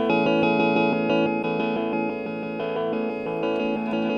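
Guitar chord sustained through a Chase Bliss Audio Lost + Found pedal's spread effect, a dense, shimmering wash with layered repeats and steady loudness, continuous and alone without speech.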